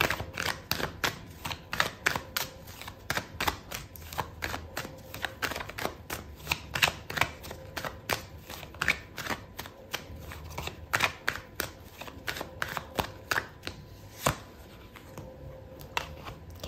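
Tarot cards are shuffled and drawn during a reading, making a run of quick, crisp riffling clicks and flicks in irregular bursts, close and fairly loud, with no talk.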